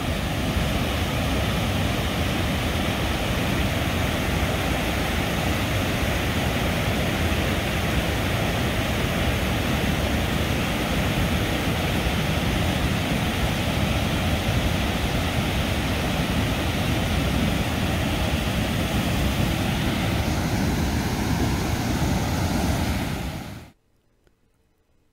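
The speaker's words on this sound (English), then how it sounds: "This is our estimate of the flow from that Cherry Creek flood that we observed on Saturday, July 24th at about 5 p.m." Floodwater rushes down Cherry Creek in a steady, loud, broadband roar that holds constant for about 23 seconds and then cuts off abruptly.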